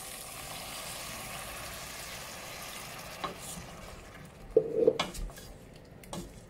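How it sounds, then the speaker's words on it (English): Potatoes cook in a pan after a quarter pint of water is added for Bombay potato, with a soft background sizzle that fades, then a few clanks and scrapes of utensils against the pan near the end. "No more sizzling now, I'll turn that off now."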